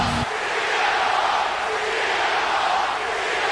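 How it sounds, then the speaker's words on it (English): A large arena crowd roars continuously, a loud wash of cheering and shouting that holds steady throughout. "this crowd is going crazy"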